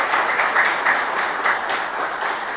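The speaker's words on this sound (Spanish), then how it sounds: "Que les pido un aplauso, por favor, para toda la paisanada" Audience applause fills the space at a 30th anniversary celebration of a gaucho fort, steady broadband clapping from a sizeable crowd throughout, with no talk over it.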